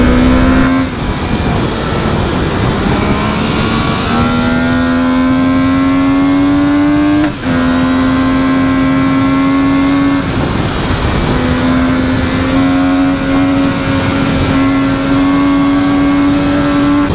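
An MV Agusta Brutal 800 motorcycle engine with stock exhaust hums steadily at high revs, its pitch climbing and dipping as the rider shifts through gears, loud and close throughout with no voices.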